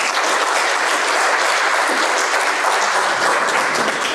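Sustained, loud applause from a conference audience welcoming a speaker, a dense even roar of many hands clapping throughout with no voices.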